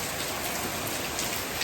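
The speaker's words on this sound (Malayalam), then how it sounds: "ഇവിടെ നല്ല മഴയാണ്" Heavy rain pours steadily, a dense, unbroken hiss of drops hitting surfaces close around.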